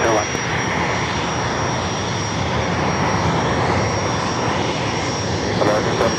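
Airbus A350 jet airliner inbound from Tokyo Haneda at Los Angeles LAX airport, a loud continuous roar of jet engines that stays fairly even throughout, with voices faintly present beneath.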